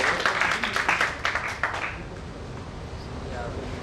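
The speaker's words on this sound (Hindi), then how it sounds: "इसके लिए जोरदार तालियां" An audience at a foundation day celebration bursts into steady clapping for about two seconds, then it fades into quieter room noise.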